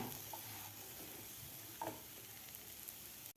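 Carrots sauté in a pan, giving a steady, soft sizzling hiss throughout, with a couple of faint stirring clicks partway through before the sound cuts off abruptly at the end.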